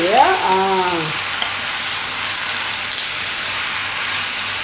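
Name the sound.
spiced meat sizzling in dry wok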